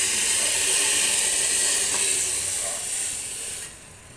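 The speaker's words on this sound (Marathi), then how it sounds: "हे पाणी त्याच्यामध्ये घालूया।" Boiled water poured into a hot pan of sabudana, giving a loud steady steam hiss that holds for several seconds, then fades near the end.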